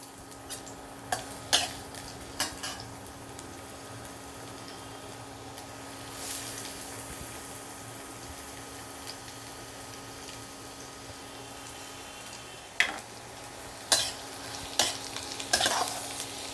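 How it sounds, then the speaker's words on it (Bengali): Oil sizzles steadily as chopped onions fry in white oil in a wok, with a few sharp clinks of a utensil stirring the pan now and then. "পেঁয়াজটা আমি হালকা করে একটু ভেজে নেব"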